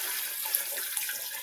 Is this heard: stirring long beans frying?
no